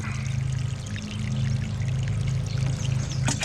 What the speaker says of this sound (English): we're giving it about a quart of water each, thereabouts